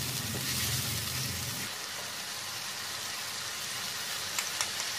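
Tomato puree and red chili paste sizzle in hot oil in a pan, a steady hissing fry that is louder at first and settles into a softer, even sizzle with a few small pops near the end.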